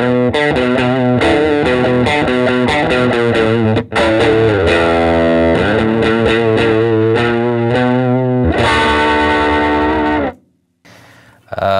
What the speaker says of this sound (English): I occasionally throw in just a super loud, clean boost